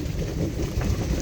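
Steady rain pours during a drive along the Jhelum river between Shakhaki and Dhani Gali, a dense, even, close wash of patter with no speech.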